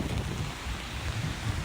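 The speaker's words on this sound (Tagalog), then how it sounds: "ang lakas ng hangin" Strong gusty wind buffets the microphone beside a swollen river during rain, a dense low rumble with rushing water texture underneath, no voices.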